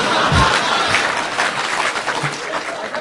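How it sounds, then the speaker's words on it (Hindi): Audience applause at a Hindi poetry recital, a steady dense wash of clapping from a crowd that carries on for the whole stretch, with a faint chuckle or murmur buried underneath. "शशिकांत तुम भी ताली बजाओ"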